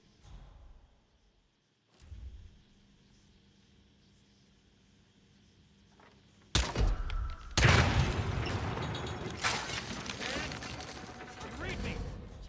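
Explosions in the Hitman video game arrive as loud, sudden booms and a burst of rumbling blasts after a quiet stretch, with speech and game sounds heard around them.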